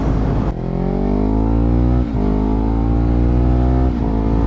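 Kawasaki Ninja 300 motorcycle being ridden, its engine revving loudly up close with rising pitch through each gear and two brief dips where the rider shifts.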